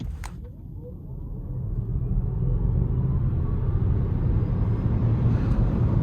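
A 2022 Volvo C40 Recharge electric car with 402 horsepower accelerates hard, a deep road rumble swelling and holding loud, with a faint rising electric whine at the start.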